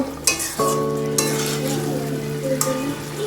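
Potato and pumpkin vegetable curry frying in a pan as it is stirred after salt goes in, with a steady close sizzle and a few scraping and clinking knocks of a spoon against the pan.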